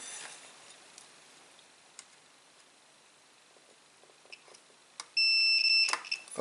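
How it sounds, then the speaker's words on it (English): Continuity beep from a multimeter checking a fuse inside an LG 32PG6000 plasma television: a few faint probe clicks in near silence, then one loud sustained electronic tone lasting about a second, followed by a short clatter. "if the fuse is okay, we should hear a beep"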